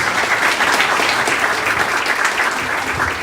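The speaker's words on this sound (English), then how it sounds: "big round of applause for our Sheriff's Office" Loud, dense applause from a town hall meeting audience for a sheriff's office. A steady wash of many hands fills the whole few seconds without a break.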